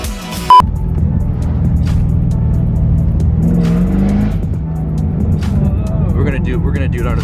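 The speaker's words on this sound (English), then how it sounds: "We're gonna try to get this burnout out of the way." A Cadillac CTS-V doing a burnout, a loud steady engine roar held high for several seconds with a rising pitch in the middle; voices speak over it near the end.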